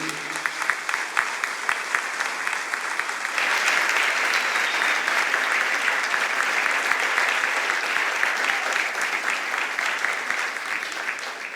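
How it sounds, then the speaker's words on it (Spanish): A church audience applauds in welcome of a guest pastor, clapping that starts moderately and swells louder after a few seconds, continuing steadily for the rest of the stretch. "quiero que le recibamos con un gran aplauso a nuestro amigo, el pastor José Oviedo."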